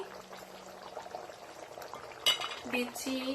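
Curry gravy for dhokar dalna, lentil cakes in a chana dal sauce, bubbling as it boils in a pan, with a steady soft simmer followed by a few sharp utensil clinks and louder bubbling near the end.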